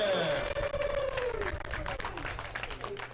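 Open-mic poetry audience at a festival clapping for a poem, a steady wash of applause and some cheering with a voice speaking over it.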